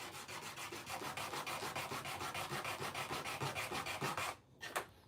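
A fresh sheet of sandpaper rubs back and forth against a surface in quick, even rasping strokes, close and steady for several seconds, then pauses before one last scrape.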